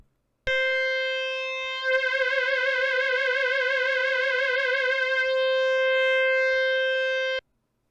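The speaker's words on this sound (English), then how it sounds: "It's my favorite digital synth" A digital synthesizer sustains a bright, harmonically rich tone as touch pressure on the keys adds a wavering vibrato through the middle, then the note settles steady and cuts off cleanly. It is heard alone and loud.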